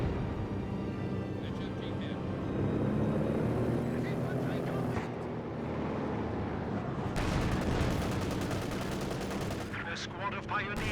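Conscript infantry firing rifles in a Company of Heroes 2 match, rapid scattered gunshots and bursts of fire crackling over a dense battlefield din with rumbling engines, while a voice talks throughout.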